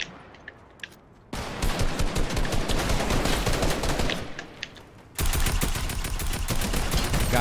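Dense, continuous bursts of automatic gunfire in a squad-based shooter game, loud and sustained in two long volleys separated by a brief lull, with a few isolated shots before.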